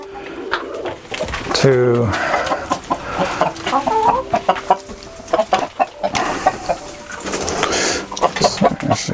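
A hen clucks and chatters close by in short bursts on an organic farm in Manitoba, Canada, with a person speaking intermittently over the bird sounds.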